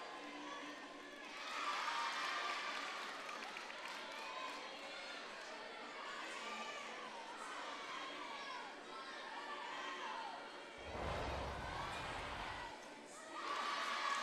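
Nebraska fans cheering on William and Mary at the balance beam during a collegiate gymnastics invitational at George Washington: a distant crowd roaring and cheering in swells, faint under a commentator's talk.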